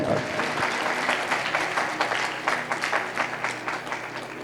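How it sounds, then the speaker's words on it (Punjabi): A church congregation at a Punjabi sermon claps loudly together, a dense, steady burst of applause that carries on for several seconds, with a voice or two faintly mixed in. "ਤਾਲੀ ਮਾਰੀਏ ਜ਼ੋਰ ਦੇ ਨਾਲ।"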